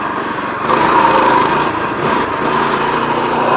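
Small, low-torque motorbike engine idles at close range with a buzzing, high-pitched drone, rising briefly in a light rev before settling back, loud and alone.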